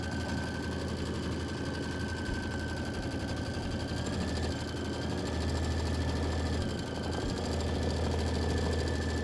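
An embroidery machine runs steadily through a quilting stitch, a constant mechanical hum and rapid needle rattle at moderate distance with slight shifts in pace, no talking.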